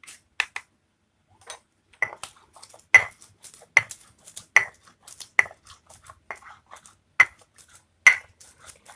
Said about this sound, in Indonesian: Kita giling halus, campur semua.